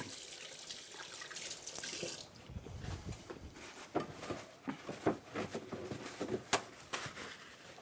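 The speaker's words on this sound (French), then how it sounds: "Je me rince un petit peu les mains." A kitchen tap runs while hands are rinsed underneath, soft hissing water at first, then irregular splashes and patters as the hands move through the stream.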